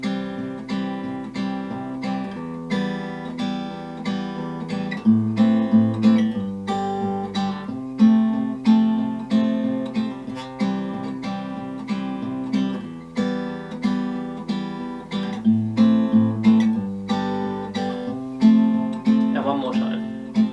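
Acoustic guitar strums the chorus chords of a song in a steady rhythmic pattern, close and clear, with no talking over it.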